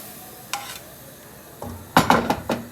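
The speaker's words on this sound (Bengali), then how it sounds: "আমার পেঁয়াজগুলো ভাজা হয়ে গেছে এখন আমি পাতাকপির মধ্যে দিয়ে দিলাম" Shredded cabbage tipped onto fried onions in a pan and stirred, a few sharp clatters and scrapes of the utensil against the pan, louder bursts toward the end over a faint sizzle.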